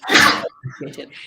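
A single loud sneeze bursts out at the start, followed by a person's brief spoken thanks in an online group call.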